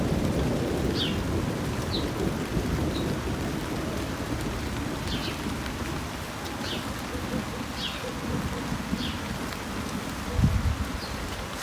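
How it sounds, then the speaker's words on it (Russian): Steady rain falls in a garden of roses, irises and peonies, a continuous soft hiss throughout with faint bird chirps now and then and a brief low rumble near the end. "Дождик пошел."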